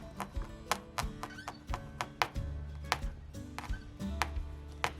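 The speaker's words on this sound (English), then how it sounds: "Continue felting the wool roving until you've filled in the shape and it feels secure along the fabric" Needle felting wool roving into fabric over a foam pad: a steady series of quiet, crisp taps and soft pokes at an irregular, quick rhythm, close and faint, with no talking.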